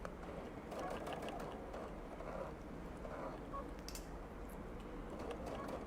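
A sewing machine stitches through a quilt made with pre-printed batting, running in a steady, continuous mechanical whir with faint clicks throughout, fairly quiet and close.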